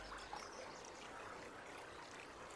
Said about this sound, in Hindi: यहां पानी की गूंज सुनाई दे रही है